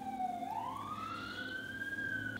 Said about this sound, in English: There's sirens like every hour.